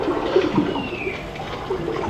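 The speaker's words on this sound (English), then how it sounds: "some bubbles, big fish swimming." Steady underwater ambience in a museum aquarium exhibit, with bubbling and watery wash sound effects playing continuously at moderate volume.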